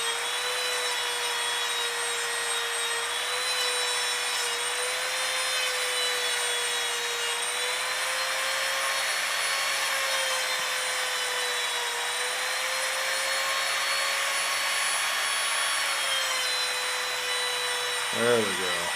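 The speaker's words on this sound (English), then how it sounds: "Let that polishing compound get in there and work and smooth everything up." A 450 Bushmaster magazine is polished with polishing compound on a motorized tool, giving a steady high whine with bright overtones that barely changes in pitch and winds down briefly at the end.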